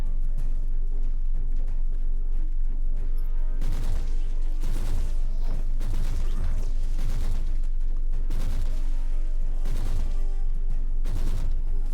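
An autogun fires in bursts in Warhammer 40,000: Inquisitor, played as a heavy gunner crusader, loud rattling volleys repeating every second or so over a constant low game hum, with no talk.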